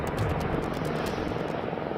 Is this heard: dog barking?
no